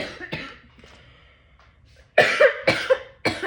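Several sharp coughs in quick succession, close and loud, following a stretch of quieter breathy sounds.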